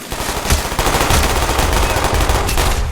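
Sustained automatic gunfire from the video game Call of Duty Black Ops, a loud, dense stream of rapid shots with heavier bursts at intervals, continuing without a break.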